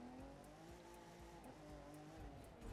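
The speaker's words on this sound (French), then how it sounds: "Attendez, je vous fais le coup du frein à main, je sais pas si vous connaissez." A car in the racing video game The Crew 2 pulls a handbrake turn, its engine drone steady under a brief, faint tire squeal, all fairly quiet.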